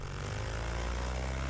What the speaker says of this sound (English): fire the engine back up